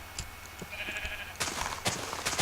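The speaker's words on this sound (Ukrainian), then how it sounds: "О, баран." Sheep bleating in the Minecraft video game, a few short bleats at moderate level over soft game ambience, with other small game sounds around them.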